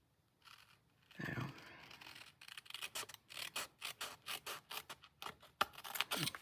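A card piece is trimmed for card making with a run of quick, rhythmic snipping and rasping cuts, close and fairly quiet, repeating steadily after an opening rustle.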